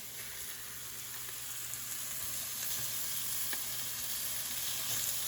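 Sausages browning in a hot pan alongside vegetables, giving a steady, fairly loud sizzle and crackle that continues throughout with a few small pops and no voices.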